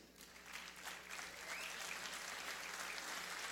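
Audience applause for the speakers at the Rio Global Summit, steady, dense clapping that swells slightly and holds for a few seconds, somewhat distant and soft, with no voices over it.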